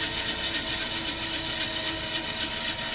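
A small engine runs at a steady, even idle nearby, a continuous muffled drone with faint vibration and no other sounds over it.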